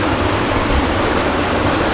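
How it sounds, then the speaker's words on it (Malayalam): Karamana river water rushing through the forest on the Agasthyarkoodam trek, a steady broadband roar that stays loud and unbroken throughout, with no voices. "ഇതാണ് കരമനയാറ്."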